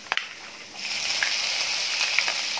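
Chopped green chillies hit a hot pan already holding chopped garlic and ginger for home-style salt and pepper chicken: a couple of sharp clicks open, then a steady, close sizzling hiss builds and holds, with no talking.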